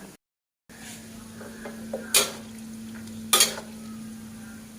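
Pork rinds frying in oil over low heat while being stirred, giving a steady soft sizzle with two brief louder scrapes of a utensil against the pan, no talking.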